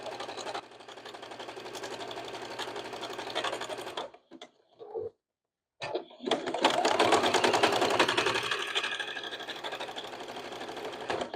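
Sewing machine stitching through paper and fabric for a greeting card, a close, fast mechanical whirring run that stops briefly into near silence, then restarts louder and continues to the end.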